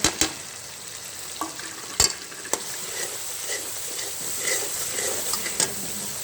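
Masala with added salt, chili and cinnamon frying in a pan for vegetable pulao: a faint continuous sizzle with a few sharp utensil clinks and scrapes scattered through, nearby and without talk.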